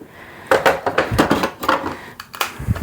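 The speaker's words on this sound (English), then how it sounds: "the first thing I'm going to do is chop up my garlic" A knife chops garlic on a board in a home kitchen, a quick series of sharp knocks in an uneven rhythm, close and clear with no talk.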